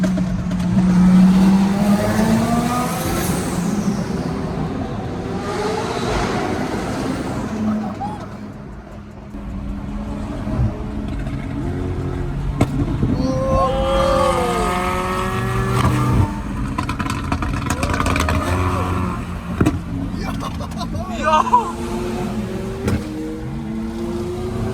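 A twin-turbo Lamborghini Huracan STO drives with a roaring engine that rises and falls in repeated sweeps, close and loud, with a BMW M5 Competition nearby on the road.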